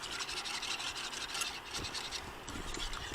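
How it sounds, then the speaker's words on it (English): A spoon stirs Korean BBQ sauce made with tamari in a pot, producing a soft, continuous scraping and rubbing that sweeps in quiet repeated strokes close by. "Just keep on stirring."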